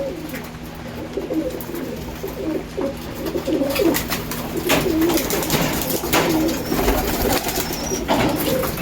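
Domestic pigeons waiting to be fed grit coo in repeated low, throaty phrases, close and fairly loud, over a soft background hum and a few rustles.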